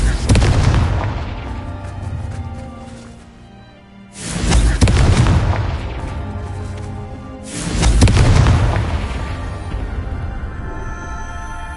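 Repeated fire-spell blasts in Hogwarts Legacy, three heavy booming bursts about four seconds apart, each swelling loud and low and then tailing off into a rumbling decay, with no talking over them.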